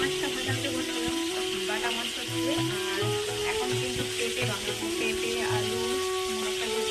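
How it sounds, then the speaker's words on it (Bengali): Fish fries in a pan of oil for a home-cooked fish curry with papaya. A dense, constant sizzle runs throughout, close and loud, with faint stirring and kitchen clatter underneath. "আর এইদিকে তো মাছ ভাজাটা হচ্ছে"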